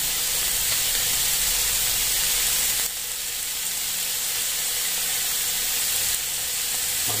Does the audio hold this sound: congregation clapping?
no